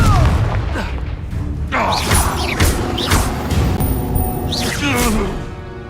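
A Confringo explosion spell cast in Hogwarts Legacy, with heavy booming blasts and crashing impacts layered over a loud battle with whooshes and voices.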